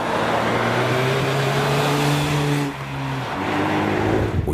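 Nissan Juke Nismo with a 1.6-litre turbocharged petrol four-cylinder, a steady engine drone while driving with the pitch easing upward, then dropping as the car shifts, heard continuously from inside the cabin under road noise.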